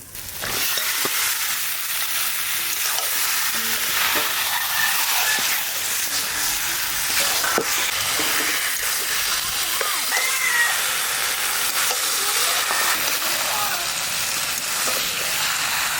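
Mutton hitting a hot pan in a home kitchen, giving a loud, steady broadband sizzle and hiss that holds through the whole stretch, with faint stirring scrapes now and then.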